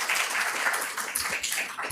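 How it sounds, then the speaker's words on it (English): A burst of audience applause at a metastatic breast cancer conference, steady dense clapping filling the short stretch at moderate volume. "Let's give another round of applause for our team."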